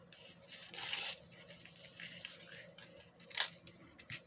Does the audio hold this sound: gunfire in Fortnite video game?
no